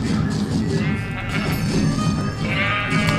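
Minecraft sheep bleating loudly and repeatedly over dense in-game background sound, close and continuous with no pauses.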